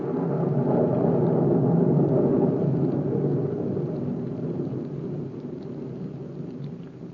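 Steady heavy rain with a low rumbling undertone, loud and continuous, slowly easing toward the end.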